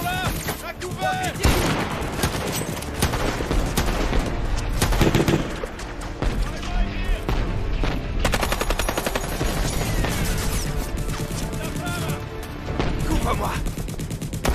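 Heavy gunfire rattles through a firefight scene in a horror film, with sustained machine-gun bursts and scattered shots, loud and close, mixed with music and shouted voices.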